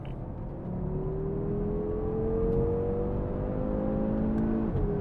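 Audi RS3 cars, 2019 and 2017 models, accelerate hard from a drag race start, a loud sustained engine roar from inside the car with a rising tone that climbs steadily, a brief gear change near the end.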